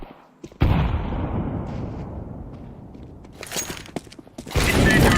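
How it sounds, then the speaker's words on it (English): A grenade blast in Counter-Strike 2, a sudden loud boom that rolls on with a long noisy decay, followed by further bursts of gunfire-like crackle near the end. "Throwing a grenade."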